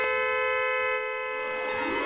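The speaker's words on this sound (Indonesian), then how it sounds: "Caleb membunyikan klakson yang didengar orang tua mereka" A steady car horn blares loud and unbroken for about two seconds, standing alone without any voices.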